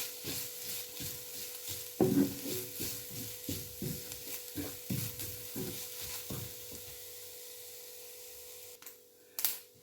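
Mustard seeds pop in grated coconut frying in a pan, with a steady sizzle and a run of small crackling pops that thin out toward the end.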